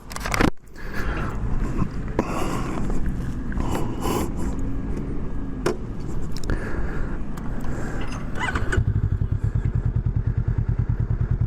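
A Honda Rebel 500 motorcycle rides along the road, its engine running steadily and close by with bumps and clatter, then settling into a rapid, even throbbing idle pulse near the end.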